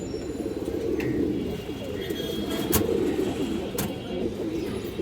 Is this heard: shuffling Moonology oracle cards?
no